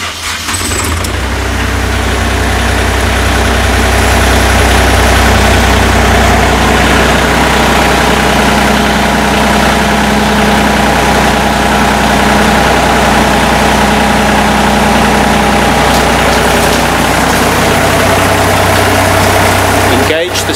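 A Hako Citymaster 600 street sweeper runs steadily at close range, its engine droning loud and constant throughout with a low rumble as the hopper is raised, with no clear voices over the machine.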